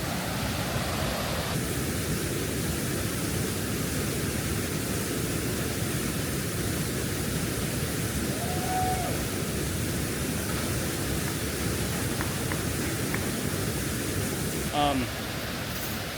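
Waterfall in Costa Rica, heard as a loud, steady broadband roar of falling water that continues unbroken from start to finish, with a brief burst of speech near the end.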